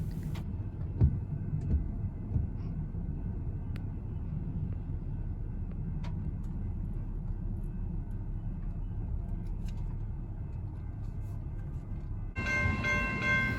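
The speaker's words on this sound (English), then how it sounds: "one of the Lynx trains stopped us" A Charlotte Lynx light rail train rolls past with a steady, loud rumble of wheels on track that holds throughout, then rises into a brighter, louder grinding and hissing burst near the end.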